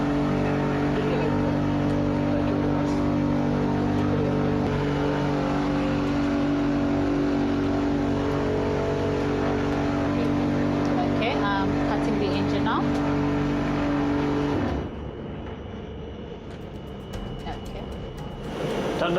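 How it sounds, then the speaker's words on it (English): An unmanned aerial vehicle engine runs loud and steady for about fifteen seconds with a sustained harmonic drone, then cuts to a quieter, noisier background, with voices talking over it. "Okay, now executing engine starting."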